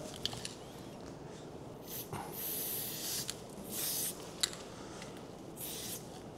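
A spray paint can used for painting hisses in several short, quiet bursts, with soft handling noises in between.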